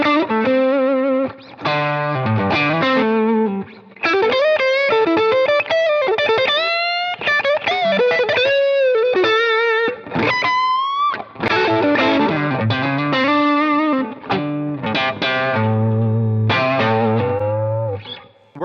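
A 1951 Jazzy Tele electric guitar driven through overdrive, playing loud, sustained bluesy lead lines with bends, slides and fast runs, close and continuous, with no voices.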